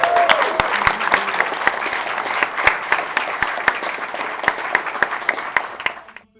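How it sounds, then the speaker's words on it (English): A convention audience at TFcon 2012 applauds the guests, a dense room-filling wave of clapping with sharp individual claps standing out, steady throughout before cutting off. "This room deserves to give you a round of applause."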